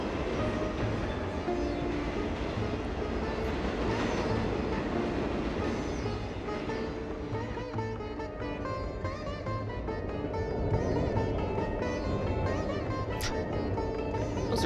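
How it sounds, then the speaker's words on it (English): A subway train runs in the video game Hell Night, a continuous dense rumble and rolling rattle with brief squeals near the end, loud and unbroken. "Those are really nice subways"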